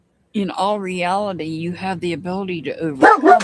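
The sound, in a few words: dog barking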